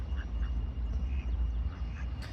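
A few scattered duck quacks at a duck pond, faint and spaced apart over a low, rumbling outdoor background.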